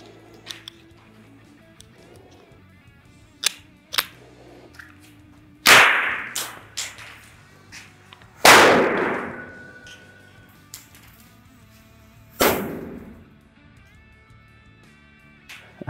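M12 single-bang civilian flash bang grenade detonating outdoors at a trade show demo: sharp, loud cracks stand out above quiet background, with several abrupt bursts and smaller pops spread over the span.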